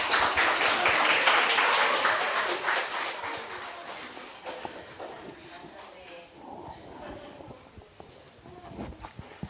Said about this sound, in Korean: 우리 환영의 박수를 하겠습니다